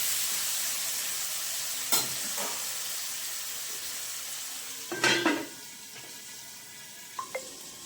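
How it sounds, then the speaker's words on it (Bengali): Potatoes frying in oil over medium heat give a soft steady sizzle, punctuated by a few louder stirring scrapes and clatters near the pan, with no speech. "এবার আলুটাকে ভাজা ভাজা হতে দেব"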